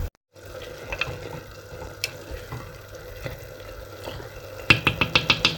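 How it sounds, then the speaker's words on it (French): Vegetables and spices are stirred in a pot over medium-high heat for a dish of small pasta pellets, with a steady low sizzle and soft scraping, then a quick run of sharper spoon clinks near the end, close and without talk. "Et on mélange le tout pendant de 1 à 2 minutes"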